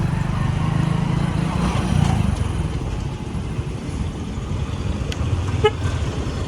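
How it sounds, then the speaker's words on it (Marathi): Congested road traffic on the way to a large agricultural exhibition in Pune: dense engine rumble from cars and motorbikes, with faint horn toots rising above the steady din. "कसं ट्रॅफिक आहे बघ जाम फुल जाम"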